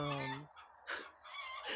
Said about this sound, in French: y a les poules qui sont contentes là-bas.